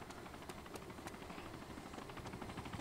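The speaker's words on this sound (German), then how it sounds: "Da fliegt ein Hubschrauber genau auf mich zu." A helicopter in the video game DayZ flying toward the player, a constant rumbling rotor drone with faint rhythmic chopping, heard at moderate distance and steady level without speech.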